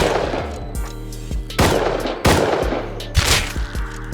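Rapid gunfire from the video game Rust, several loud bursts of shots with sharp cracks at irregular intervals, close and dominant, no talk over them.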